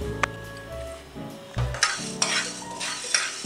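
Black pepper being dry roasted in a pan, with clinking and scraping of a utensil against the metal as the peppercorns are stirred, a few sharp clinks standing out over a steady low rattle.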